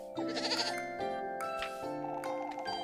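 A goat bleats several times in quick succession, loud and close, in a wavering, nasal tone with no talking over it.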